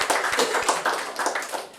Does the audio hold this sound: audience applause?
yes